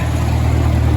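A vintage Farmall Cub tractor idling as it warms up on a cold day, a loud, close, steady low engine rumble throughout the brief moment.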